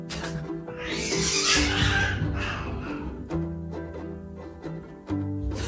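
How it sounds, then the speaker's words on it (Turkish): Two house cats fighting indoors, with a burst of strained yowling and hissing early on, then fainter growls and scuffling that trail off. "Kedilerim kavga ediyor şu an."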